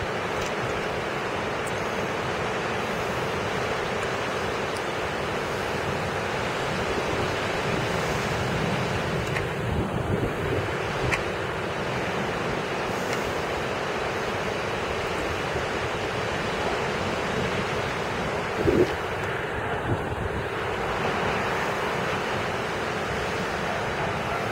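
Strong wind during a Cleveland thunderstorm roars steadily as a broad, continuous rush with buffeting against the microphone, loud and unbroken throughout with no voices.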